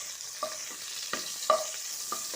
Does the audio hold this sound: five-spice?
yes